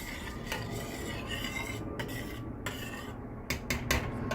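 A sweet rice (zarda) mixture is stirred in a pot, with soft scraping and clinking of a utensil against metal over a quiet background, a few sharper knocks near the end.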